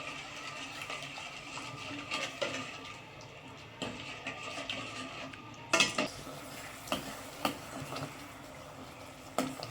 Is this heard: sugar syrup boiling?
yes